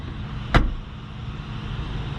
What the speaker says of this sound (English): body on frame, door closing noises.